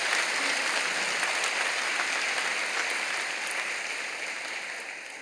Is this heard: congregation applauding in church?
yes